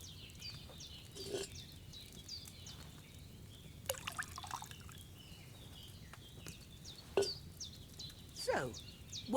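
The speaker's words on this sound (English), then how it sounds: "So, what did you pour in there? Wine, of course." Wine poured into a cauldron in the Kingdom Come Deliverance II video game gives faint, scattered drips and small splashes, spaced irregularly over a quiet background with no talk.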